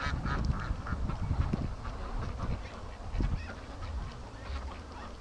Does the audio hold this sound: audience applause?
no